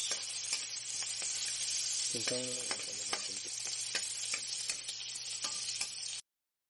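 Onions and dried fish stir-fry in a hot pan. The sizzle runs steady and close, and a spatula scrapes and clinks now and then while the frying hiss continues, with no talk.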